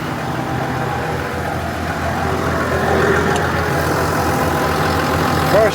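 A fire-damaged Case Optum tractor engine idles steadily after its first start following repair, a continuous low rumble at close range with a faint tone rising near the end.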